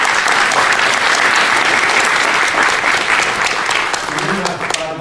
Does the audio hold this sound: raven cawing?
no